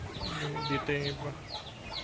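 Chickens cluck and squawk on a farm during feeding, a few harmonic calls overlapping in a short, busy burst against low background noise.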